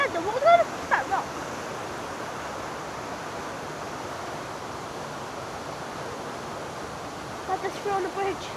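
Water rushes past rocks beneath a footbridge on an estate walk, a steady broadband roar close by, with brief faint voices near the start and end.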